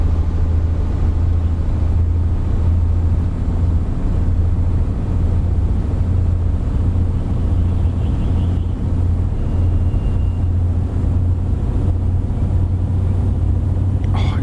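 A Mercedes-Benz Actros 320 truck engine droning steadily in Euro Truck Simulator 2 on a modded Iceland road, a constant low rumble heard from the cab with no talk.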